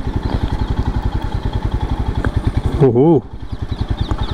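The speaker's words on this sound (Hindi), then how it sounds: "अभी हम लोग करते हैं एक छोटा सा turning radius test of the motorcycle" A Royal Enfield Scram 411 motorcycle putters at low speed with a steady single-cylinder thump while it is ridden through a tight turn. Midway a rider's brief exclamation cuts across the engine, which then carries on thumping.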